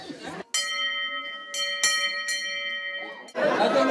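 A village bell tolls at 8 pm in Les Verrières-de-Joux, several loud ringing strikes with long humming decay, close by, with people talking briefly before and after the peals.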